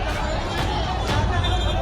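A dense crowd of devotees at the Tirupati Balaji temple in Andhra Pradesh mills and surges during a stampede, producing a loud, continuous wash of babble and commotion with no individual voice standing out.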